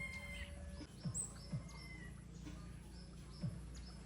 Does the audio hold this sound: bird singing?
yes